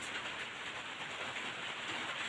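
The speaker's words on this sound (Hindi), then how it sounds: "इधर देखिए बारिश हो रही, कितना अच्छा लग रहा है" Rain falls outside beside a house courtyard on a hot day, a soft steady hiss of drops with no breaks, faint and even throughout.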